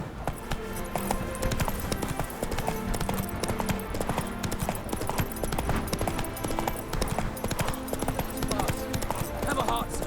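Roach, a horse in The Witcher 3, clip-clops along at a steady gallop, the hoofbeats running continuously beneath game music and background voices.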